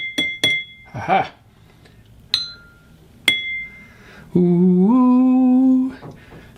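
Several sharp clinks from a drinking glass tuned with water ring out with bright sustained tones, followed by a voice humming a steady sliding pitch to match.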